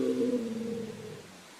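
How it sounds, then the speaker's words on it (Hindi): A black monkey's roar used as a horror story sound effect: a loud, drawn-out tonal groan that slowly falls in pitch and fades over under two seconds, with no talking. "तभी वह काला बंदर जोर जोर से चिंघाड़ने लगता है।"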